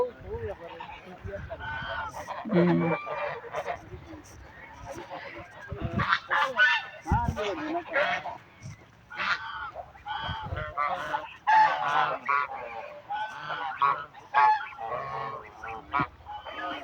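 Domestic geese honk repeatedly in a noisy, overlapping flock, close and fairly loud, with a person talking intermittently underneath.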